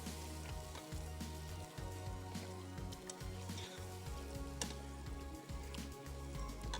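Yogurt and tamarind pulp frying in a pan, a soft steady sizzle with light crackling pops throughout, fairly faint and with no talking.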